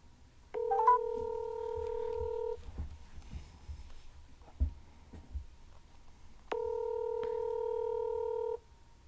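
Keypad tones of a phone being dialed on speakerphone, heard as two long steady dual-tone beeps about four seconds apart, separated by quiet handling noise, with no talking.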